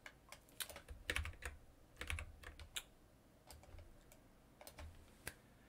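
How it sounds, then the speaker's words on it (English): Fingers type on a computer keyboard in quick, irregular bursts of soft clicks and taps, close and fairly quiet, with short pauses between runs and no voices. "Is that my keyboard?"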